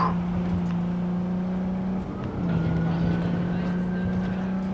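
In Cyberpunk 2077 on PS5, a sluggish car cruises along a highway with a steady, close engine drone that dips briefly midway, while faint speech murmurs underneath.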